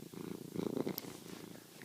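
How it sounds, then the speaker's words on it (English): Close, soft purring from a cat, a steady rumbling rhythm with no talking. "Can you hear him purring?"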